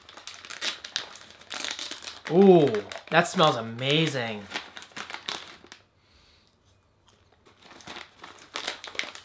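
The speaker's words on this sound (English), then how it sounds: "opening up the bag again" Plastic crinkling and rustling as a bag in a food subscription box is opened, with a person talking and exclaiming over it before a brief quiet stretch and more rustling.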